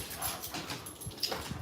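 Puppies whimpering softly and faintly in short, high, breathy whines close by, mixed with light movement and a thin steady background tone.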